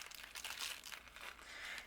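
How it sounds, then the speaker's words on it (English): A plastic bag is opened and paper flowers are poured out for a card, giving close, continuous crinkling and rustling with soft papery shuffles, quiet and alone. "You just open the bag like this, pour it in."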